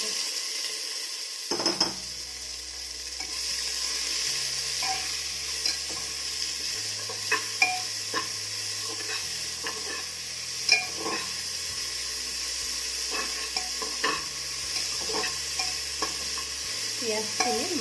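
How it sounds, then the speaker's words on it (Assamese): Onions sizzle steadily in hot oil in a pan, with frequent light scrapes and clinks as they are stirred, heard close with no talking. "পিঁয়াজখিনি ব্ৰাউন কালাৰ অহালৈকে ভাজি ল'ব লাগিব।"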